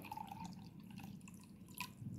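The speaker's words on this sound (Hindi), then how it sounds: "इस ग्लास में मैं पीने वाला पानी थोड़ा सा ले" Drinking water is poured into an empty glass, a soft trickling splash with small drips and a brief brighter gurgle near the end, close and fairly quiet.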